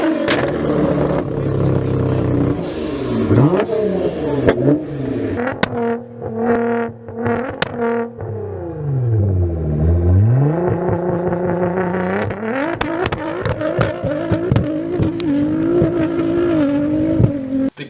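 A Nissan R35 GT-R accelerates and drives past, its engine note rising and falling through several gear changes, loud and close with no talk over it.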